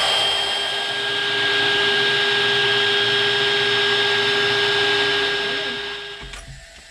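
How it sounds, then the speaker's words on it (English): Power drill boring holes in a steel vertical bracket for a Peterbilt 359 truck, a steady loud whine running for about six seconds before cutting off abruptly. "I need to drill a couple holes in it"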